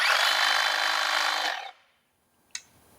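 An EGO HT2411 cordless hedge trimmer buzzes loudly and steadily while trimming a bush, then winds down and stops, followed by a single sharp click.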